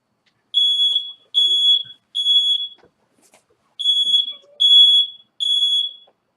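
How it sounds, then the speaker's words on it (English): A kitchen smoke alarm shrieks in loud piercing beeps, two short bursts per group, repeating in three groups with a brief pause between them. "You know you're having a good time when the smoke alarm goes off."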